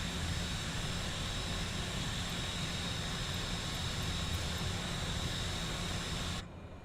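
A Cessna Grand Caravan's engine in Microsoft Flight Simulator 2020 drones in a steady, even roar that holds unchanged for several seconds before cutting off abruptly.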